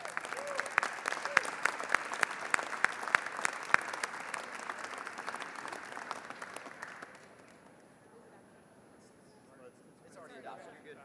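Applause fills the Texas House chamber in celebration of a family, dense clapping lasting about seven seconds before fading into a quiet room with faint murmurs.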